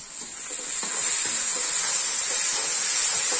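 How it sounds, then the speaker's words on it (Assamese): Onions fry alongside chicken in a pan, giving a close, steady sizzling hiss that swells slightly after the first second, with faint stirring ticks underneath and no talking. "অকণমান পিঁয়াজখিনি বাদামীয়া কালাৰ হোৱালৈকে ভাজি দি দিম"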